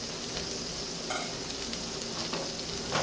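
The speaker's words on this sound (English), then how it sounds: "I'm just going to allow these to brown just a little bit." Peeled rutabaga and carrot pieces browning in a pan, a steady dense sizzle and crackle with occasional stirring scrapes, close and even throughout.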